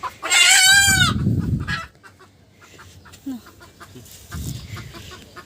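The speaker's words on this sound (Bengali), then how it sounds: "এখন আমাদের 2টো মুরগি আছে, একটা মোরগ একটা মুরগি।" A rooster and a hen on a village homestead: a loud, close rooster crow opens the clip, followed by softer scattered clucking and a second brief burst of fowl calls.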